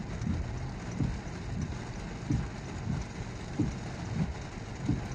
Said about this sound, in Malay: Makin lebat Hujan